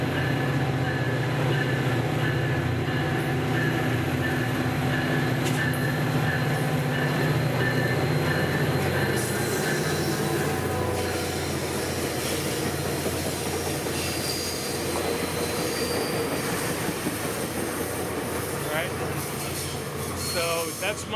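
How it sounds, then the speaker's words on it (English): A southbound Tri-Rail commuter train passes close by with a loud sustained rumble, rail clatter and squealing wheels. The roar holds steady for about twenty seconds and a voice talks over it. "I think this is the southbound Tri-Rail behind me."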